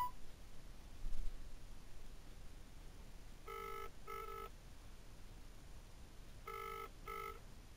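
An outgoing phone call rings twice, each ring a pair of short electronic tone bursts, heard faintly over quiet background hiss.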